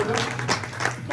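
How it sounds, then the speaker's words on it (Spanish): An audience claps for a volunteer invited up during a motivational talk, a brief burst of dense applause from a moderate-sized crowd with a voice audible under it. "Por favor, un aplauso para Calet."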